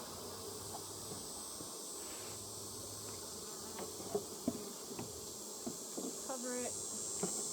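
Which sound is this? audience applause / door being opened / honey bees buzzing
honey bees buzzing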